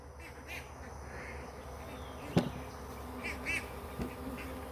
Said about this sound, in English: It is full of bees inside there.